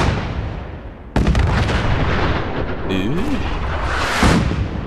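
Artillery strike explosions in the video game Fallout 4, with a sudden loud blast followed by a sustained rumbling barrage and further booms, close and heavy.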